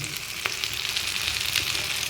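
Fish, prepared with spices, frying in a pan on a home stove, giving a steady close sizzle throughout with one faint clink partway, and no voices.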